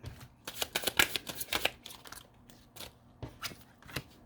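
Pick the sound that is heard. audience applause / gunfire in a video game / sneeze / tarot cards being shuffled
tarot cards being shuffled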